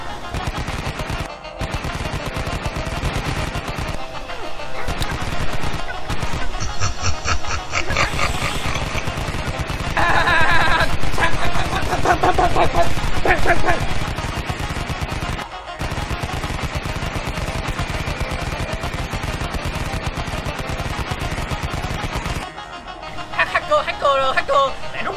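Video game gunfire in rapid machine-gun bursts and single shots, loud and nearly continuous with a few short pauses, while players talk over the shooting.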